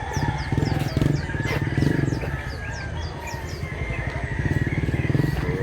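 Chickens and roosters at a hillside chicken farm in Mantalungon, Cebu, crowing and clucking in a dense overlapping chorus, with a steady low engine-like drone running underneath throughout.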